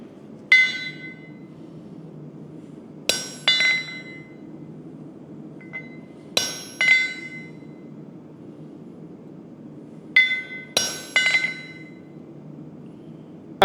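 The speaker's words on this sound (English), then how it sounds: "since I'm using a shorter chisel, I'm able to actually put a little bit of curve in that" A hammer strikes a short chisel against metal to cut leaf veins at a blacksmith's bench, sharp ringing clinks landing in scattered clusters of one to three blows with quiet pauses between.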